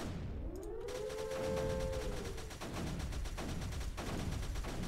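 Mortars firing in the strategy video game Creeper World 3, a dense run of repeated game blasts over a constant roar, with a brief falling electronic tone early on.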